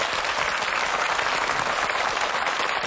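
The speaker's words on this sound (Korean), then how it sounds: "박수 한번 보내주시죠." An audience of soldiers and veterans at a military unit event applauds in a dense, steady wash of clapping that holds at an even loudness throughout.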